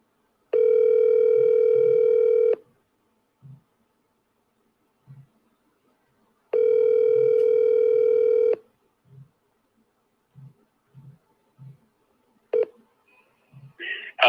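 Two long, steady ringback tones on an outgoing phone call, each about two seconds, separated by a pause, followed by faint scattered clicks and brief noises near the end.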